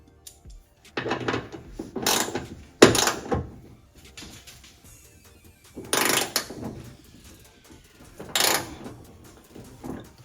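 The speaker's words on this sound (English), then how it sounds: "I'm gonna tighten it and then just move it in place for the second bolt" A ratchet tightens a mounting bolt on a LED pod ditch light fitted to a 2022 Toyota 4Runner, giving several bursts of loud, close clicking separated by quieter pauses and small metallic handling noises.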